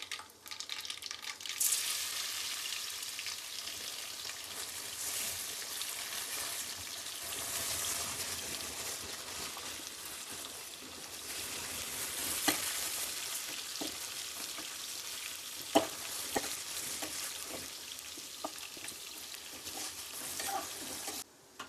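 Garlic sizzling in hot oil in a pan alongside mustard seeds for Indian-style garlic rice, a steady bright crackle with occasional louder pops and spoon scrapes, no talking.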